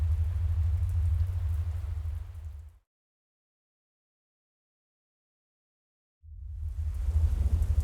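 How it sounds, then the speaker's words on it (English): Heavy rain with rumbling thunder roars loudly, drops out into total silence for a few seconds, then returns just as strong. "The rain pattered against the windows with a comforting regularity."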